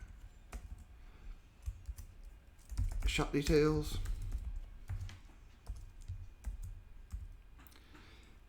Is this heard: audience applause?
no